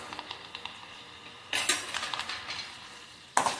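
Urad dal, mustard seeds and chana dal with curry leaves fry in a pan on low heat, with a soft crackle and a burst of sizzling and light metallic clinks that returns sharply near the end.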